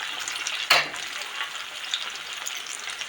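Tofu sizzles hot in a frying pan, a loud steady crackle close by with one sharp stirring or flipping burst near the start, and no voices.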